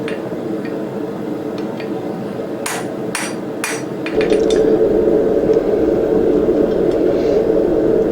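A blacksmith's hammer strikes hot steel three times in quick succession, sharp ringing blows, while shaping round jaw tongs; a few lighter taps follow before a steady roar of forge blower noise takes over.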